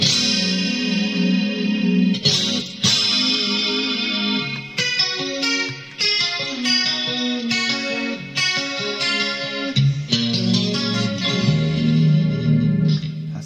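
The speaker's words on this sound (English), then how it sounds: "Then we're going to knock on the detune. So this is the simple dual pitch." Electric guitar played through a Helix unit with a simple dual pitch detune effect, a thick doubled, slightly wavering tone over a sequence of strummed chords and single notes, loud and alone.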